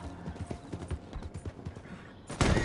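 Horse hooves clip-clopping in Red Dead Redemption 2, a quick steady trot of soft hoofbeats ending in a louder thump.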